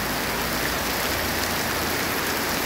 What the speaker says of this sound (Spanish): sigue lloviendo, ¿verdad?